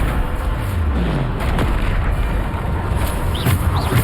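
Bombarda spell explosions in Hogwarts Legacy rumble close and loud, with heavy booms and sharp bursts layered over a steady, noisy battle din throughout.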